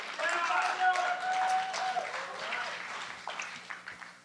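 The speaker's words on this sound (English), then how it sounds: "Let's give a round of applause." Conference audience at a Python lightning talk claps for the next speaker, a scattered round of applause up close that tapers off over a few seconds, mixed with murmuring voices and a faint tonal whine.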